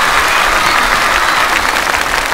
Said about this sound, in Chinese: 也把致敬的掌声送给张晨宇